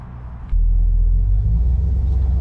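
A 1968 Plymouth Satellite engine, on its first drive since 1976, rumbles low and steady, rising abruptly to a louder, fuller idle after about half a second and holding there close to the listener.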